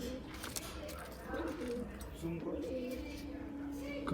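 Pigeons coo softly and repeatedly in the background at a pigeon sale in Ichapur, West Bengal, while people talk over them throughout.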